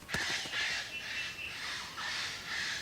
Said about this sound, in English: It screams at other birds, especially females